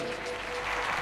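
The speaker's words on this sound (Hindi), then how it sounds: "सभी जन जोरदार तालियों के साथ इस गवाही के लिए परमेश्वर का धन्यवाद करें।" A church congregation breaks into a dense burst of applause during morning prayer, loud and close, with no voices rising above the clapping in this short moment.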